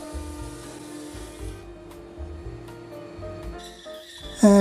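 A thickness planer drones with a steady motor hum as glued-up pine feeds through, low rhythmic thumps pulsing beneath it, ending in a sudden louder burst.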